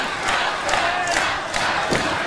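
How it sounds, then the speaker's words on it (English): Loud, steady roar of a wrestling crowd at an Australian Supershow match during a submission hold, with cheering and shouting swelling in waves, close and continuous throughout. "You can hear half the crowd here behind Robbie Eagles wanting Hayden Zenith to tap"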